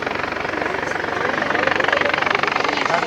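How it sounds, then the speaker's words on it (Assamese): A helicopter's steady rotor thrum and engine roar holds constant for about three seconds, with voices murmuring faintly underneath. "হেলিকপ্টাৰ দেখাইছে"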